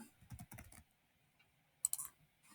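Quiet computer keyboard typing with a short cluster of soft key taps early on, then a pause and a sharper, brighter flurry of clicks near the end, close by in a quiet room.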